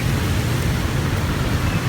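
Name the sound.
rain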